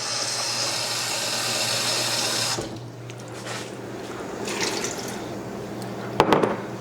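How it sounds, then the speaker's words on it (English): Water pours steadily from a tap into a pot for canning mushrooms, a bright continuous rush for a few seconds before it cuts off, followed by quieter clinks and a short clatter. "I've taken a look at this and I've decided to add 1 more cup of water"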